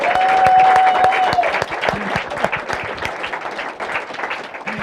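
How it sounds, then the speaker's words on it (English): Audience applause at a live business call event, loud sustained clapping from a crowd that gradually thins out, with a brief whistle near the start. "Clap for that."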